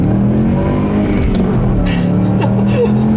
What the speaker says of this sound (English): so I'll leave you guys a little redline run here.